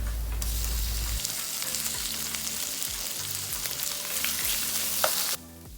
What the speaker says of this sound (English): And then we add in the prawns.